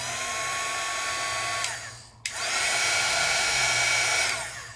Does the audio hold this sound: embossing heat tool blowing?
yes